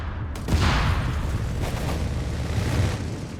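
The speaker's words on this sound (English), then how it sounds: "More strafing runs." Aircraft strafing runs in the World War II strategy game Company of Heroes 3, heard as a dense, loud roar of gunfire and explosions with a deep rumbling low end, sustained throughout without pause.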